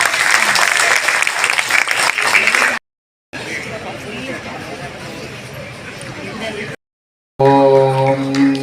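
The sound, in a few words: audience applause at college event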